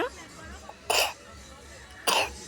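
A young girl coughing with a cold at a fair, two short harsh coughs about a second apart, close to the microphone over a faint background murmur.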